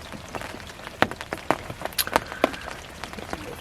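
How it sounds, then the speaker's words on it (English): Rain patters on a lake at a fishing peg, with scattered close drops and sharper taps hitting nearby surfaces in an irregular rhythm, no voices. "You see it's raining, it's been raining all night."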